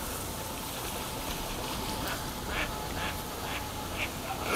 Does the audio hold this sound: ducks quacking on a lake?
yes